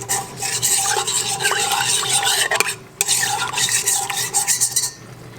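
A utensil stirs yeast in water in a bowl to bloom it, a continuous close scraping and swishing with rhythmic strokes, one brief pause midway, then fading at the end.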